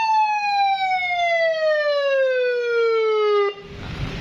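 A custom police-escort-style siren horn fitted to an older Yamaha Nmax scooter sounds one loud, close electronic tone that slides steadily downward for several seconds, then stops abruptly into rough engine and background noise.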